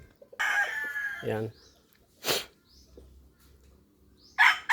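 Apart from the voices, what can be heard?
chickens clucking and crowing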